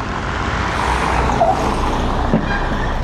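A car drives past on a road, a loud close engine and tyre rumble swelling and fading over a steady traffic background.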